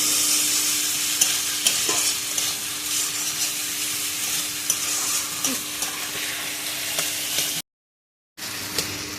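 Chopped tomatoes fry in spiced masala for a Bengali goat mutton curry, a steady dense sizzle with scraping stirs throughout, close and fairly loud, cutting out briefly before the sizzle resumes.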